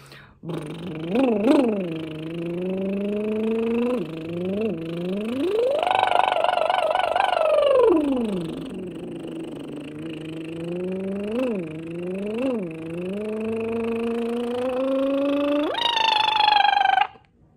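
A voice imitates a motorbike with a buzzing lip trill, pitch revving up and down repeatedly, with a long high rev in the middle, all in one sustained breath.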